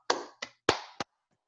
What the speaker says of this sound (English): So let's have a big round of applause to everyone for showing up.